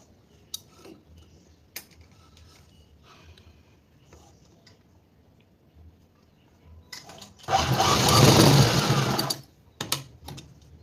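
A domestic sewing machine runs a double line of stitching on a garment seam: scattered clicks and taps, then one loud whirring burst of about two seconds, followed by a few more clicks.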